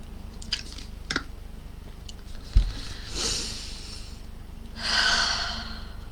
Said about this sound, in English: So let me have a sip of water.